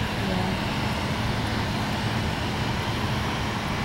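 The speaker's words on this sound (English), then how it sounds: "I bet that's a DC-10." A large DC-10 airliner's jet engines roar steadily and loudly at an airport observation area, a dense continuous rumble with no break over the few seconds.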